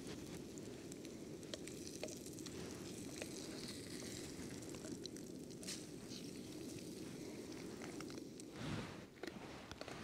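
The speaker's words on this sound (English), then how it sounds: "give our eggs a flip here" Eggs frying in a pan over Sterno canned heat on a winter camping setup give a steady, soft sizzle and crackle throughout, fairly faint and continuous with a brief scrape near the end.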